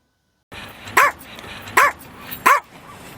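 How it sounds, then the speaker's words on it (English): A dog being trained to bark on command gives three loud, sharp barks about three quarters of a second apart, close by and clear after a moment of silence. "Here are 3 ways to make your dog bark on command."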